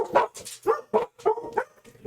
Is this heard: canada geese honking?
no